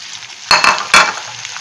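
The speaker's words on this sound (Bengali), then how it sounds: "এরপরে আমি যে ক্যাপসিকামগুলো কেটে রেখে দিয়েছিলাম এবার ক্যাপসিকামগুলো দিয়ে দেবো" Onions and chopped capsicum sizzling in a kadai for dhaba-style kadai chicken, with a steady fry broken by two loud bursts as the capsicum hits the hot oil and is stirred.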